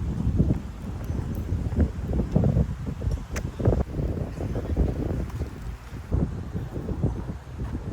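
Breezy wind sweeping through Rose Hill Cemetery in Kissimmee, Florida, gusting and buffeting the microphone in irregular bursts with faint rustling, no talking.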